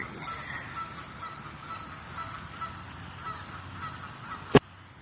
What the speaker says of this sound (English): here's that duck again